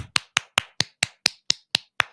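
A clapping sound effect played from a button: ten crisp, evenly spaced claps in a steady rhythm, close and clean against silence.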